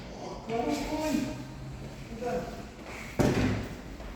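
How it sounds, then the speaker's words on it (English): The lift at Curry's in Morfa Shopping Park, Swansea, opens its doors with a couple of dull thuds and a soft mechanical rumble, ending in a sharper knock. "Doors opening."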